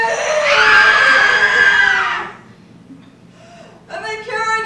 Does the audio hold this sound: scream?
yes